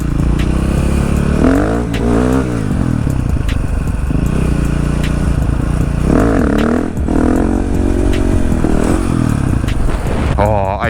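A road-legal 125cc two-stroke motorcycle is ridden and revved hard, its engine climbing and falling through several sharp throttle bursts over a steady, loud, close-up drone.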